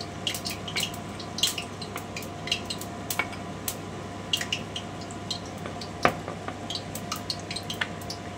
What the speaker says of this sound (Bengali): আমি ধনেটাতে একটু জল দিয়ে দিচ্ছি।